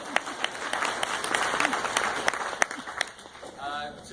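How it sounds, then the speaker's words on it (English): Applause from a gathered audience at a leadership cohort event, dense clapping with distinct loud individual claps close by, fading out near the end as talking begins. "A big round of applause."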